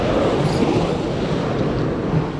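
Ocean surf washing onto the shore, a steady loud broadband roar with wind buffeting the microphone, continuous throughout with no talking.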